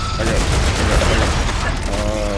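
Gatling gun turrets fire on swarming bugs in StarRupture, a dense continuous rattle of rapid shots that stays loud throughout, with someone talking over the gunfire.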